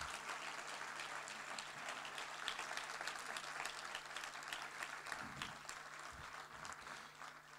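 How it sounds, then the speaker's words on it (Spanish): A church congregation applauds in praise during a sermon, a steady moderate clatter of many hands with a few sharper claps standing out near the end. "¿Te animas a darle un aplauso al Señor?"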